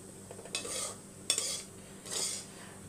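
A utensil stirs rice and egg together in a pan in three scraping sweeps with a faint sizzle, close and moderately loud, with no voices.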